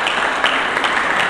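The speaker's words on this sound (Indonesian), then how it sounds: "Mari kita berikan tepuk tangan bagi Yesus" A church congregation claps together, a dense, even wash of applause that stays loud and close for just over a second.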